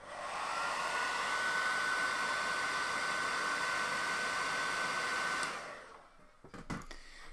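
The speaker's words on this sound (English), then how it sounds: "Let's use our hairdryer a little bit." A hair dryer blows steadily up close while drying paint on a Nurgle-themed chaos lord miniature, a loud even whoosh that cuts off abruptly, followed by a few handling clicks.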